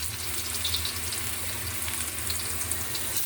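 Garlic frying in hot cooking oil for a stir-fried clam dish, a steady broadband hiss and crackle holding level throughout with no voices.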